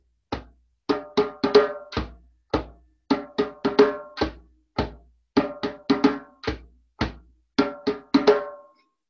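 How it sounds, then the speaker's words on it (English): A hand drum plays a repeating rhythm of flat-hand bass strokes in the center and finger tone strokes on the edge, in crisp, close groups of hits with short pauses between phrases. "It's the flat hand in the center of the drum. And the tones are the fingers on the edge of the drum."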